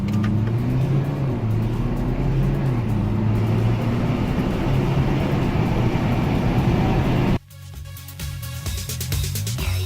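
BMW X4 accelerating hard from a standstill, a loud, close engine roar climbing steadily in pitch through several gear changes for about seven seconds before cutting off abruptly to quieter rumble.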